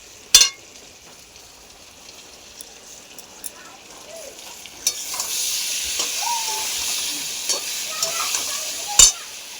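Beans, potato and greens fry quietly in a pan for a curry, a soft sizzle that grows steadier partway through, punctuated by a few sharp clanks of utensils, with occasional speech over it.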